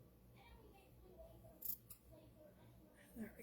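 Scissors snipping through quilt fabric seam allowance on a tiny sewn piece, a few quiet crisp cuts against a soft background.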